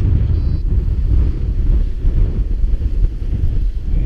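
Strong wind buffets the microphone at a paragliding launch site, a loud continuous low roar with gusty fluctuations throughout, no voices.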